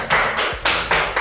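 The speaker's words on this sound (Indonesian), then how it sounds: "Ya, tepuk tangan untuk kelompok B." Brief classroom applause for a student group during a teaching session, a few quick rhythmic bursts of hand clapping, close and moderately loud, lasting barely over a second.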